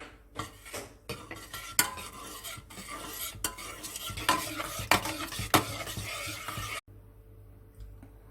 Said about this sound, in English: Wait until boiled and stir.